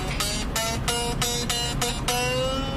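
A Fender Telecaster electric guitar being tuned, with seven repeated plucked notes in a steady rhythm, each ringing briefly, over a constant background hum, with no voices.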